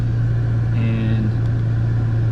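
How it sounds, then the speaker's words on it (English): A Toyota Tacoma truck engine idles steadily, giving a constant low hum that runs unbroken from start to finish. A voice speaks briefly over the engine. "as you can see, the truck's running"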